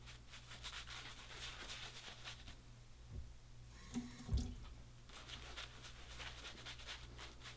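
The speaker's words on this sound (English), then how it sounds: "And add some water as you go along too." Water trickles and splashes into a shaving bowl as lather is built for a Muhle R41 shave, with soft brush rubbing throughout and a brief louder splash midway, close and quiet.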